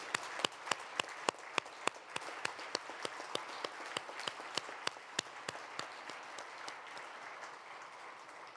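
Audience applause at South Korea's 53rd National Prayer Breakfast: steady clapping from a crowd with sharp individual claps standing out over a continuous wash. It holds fairly even for the whole stretch and is heard from a moderate distance.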